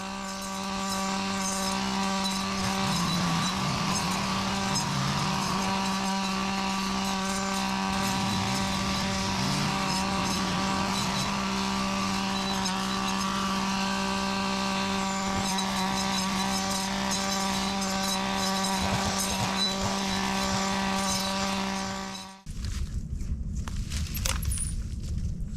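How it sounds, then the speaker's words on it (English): A brush cutter drones steadily at high speed for a long stretch in a vineyard, close and loud, with slight strain as it chews through tangled vines, then cuts off abruptly. "The brush cutter works well on those tangled vines."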